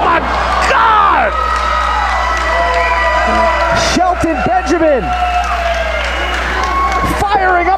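Wrestling crowd at a Reality of Wrestling Christmas Chaos event cheers, whoops and yells loudly and steadily, with an announcer talking over the noise.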